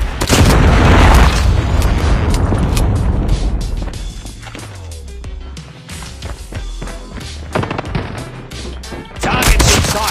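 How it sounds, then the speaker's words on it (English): A Predator missile strike in a shooter video game booms with explosions and crashing debris, followed by rumbling and scattered gunfire, loud at first, fading in the middle, then surging again. "Predator missile inbound."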